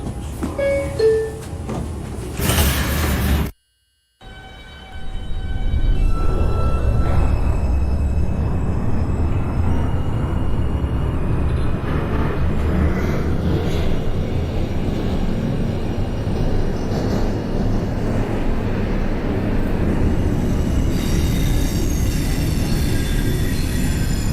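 An NYC Subway R142 2 local train runs through a snowy route in the OpenBVE train simulator, giving a loud, continuous rumble and rattle of wheels on rail. A brief silent gap comes early, then motor whine and clatter build steadily.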